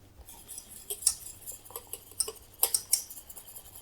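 A small whisk stirs freeze-dried instant coffee in a dish, making a quiet run of uneven metallic clinks and ticks with a few sharper taps near the end.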